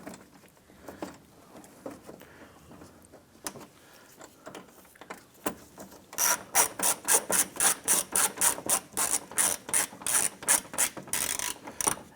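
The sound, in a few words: ratchet tightening 8mm fender screw on Ram 1500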